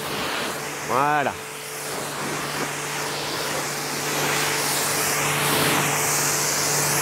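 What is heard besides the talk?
spraying water to wet car before prewash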